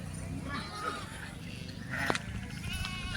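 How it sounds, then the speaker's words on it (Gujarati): Goats bleat amid outdoor village chatter, with a short nasal cry rising above the background voices about two-thirds through, fairly faint and mixed under people talking. "બકરા આવી ગયા છે"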